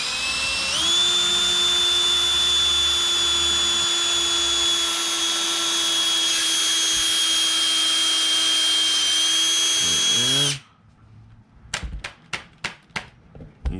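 A drill bores mounting holes for an electric trim tab plate on a boat, a loud steady high-pitched whine for about ten seconds, then stopping, followed by a series of sharp taps.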